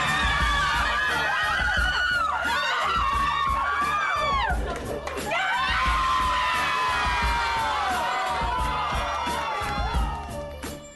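A large crowd cheers and shouts loudly after a women's basketball win, with high whoops and screams rising over a dense roar that swells throughout.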